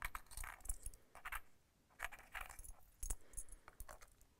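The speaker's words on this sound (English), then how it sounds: "That sounds like money." Silver coins rattling and clinking inside a container, heard in several short shaken bursts with pauses between them, close and fairly quiet, with no talking.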